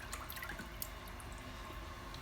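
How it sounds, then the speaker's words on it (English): Paper pulp made from old letters is stirred in water, a soft continuous sloshing and dripping with faint splashes, close by and steady for a couple of seconds. "So I'll give it a stir."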